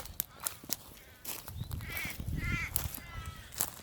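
A crow caws outdoors at Sturt Creek gorge near Adelaide: a couple of harsh calls in the middle, over scattered rustling and knocking nearby.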